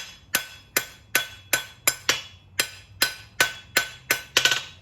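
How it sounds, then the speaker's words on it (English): Hot steel is hammer polished on an anvil at a coal forge with an electric blower, giving a steady series of about a dozen sharp, ringing hammer strikes, close and loud, with no talking. "So right now I'm hammer polishing."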